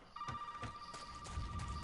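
A telephone rings in the horror game Resident Evil 7, a faint, steady electronic trill sustained beneath quiet room ambience and soft thumps.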